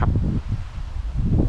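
Strong wind roars through leaves at a national park on a cold winter road trip, a steady, loud, low rushing with mic buffeting and rustle throughout and no speech.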